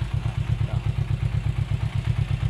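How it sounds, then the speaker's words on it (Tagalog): A 400cc motorcycle engine idles while warming up, a steady rapid low thumping pulse that holds an even rhythm throughout, close and moderately loud with no talking. "Pinapainit na makina para para kondisyon at uminit na yung langis para okay siya tumakbo."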